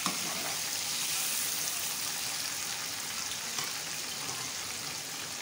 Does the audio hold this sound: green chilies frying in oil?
yes